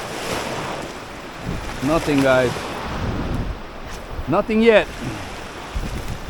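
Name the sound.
rough sea water and waves while fishing in Jamaica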